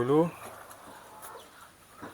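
A native village chicken in a small backyard coop lets out one short, fairly loud cluck at the start, followed by faint, quiet coop background.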